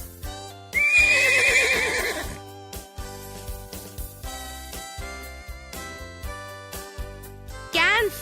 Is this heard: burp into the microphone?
no